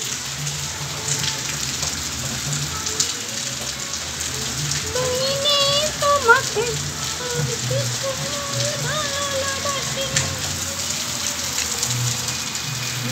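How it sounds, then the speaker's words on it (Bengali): Heavy monsoon rain pours steadily outside on a wet July day, drumming on surfaces nearby in a constant hiss, with a voice and other brief voices faintly over it. "চলো বৃষ্টি পড়ছে কেমন বাইরে দেখাচ্ছি"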